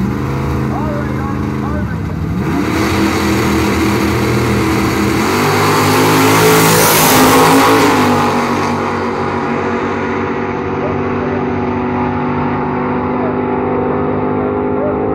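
A 1971 Dodge Dart and a 1967 Plymouth Cuda launch in a drag race, their engines roaring loud and close and climbing in pitch as they accelerate, with a crowd murmuring throughout.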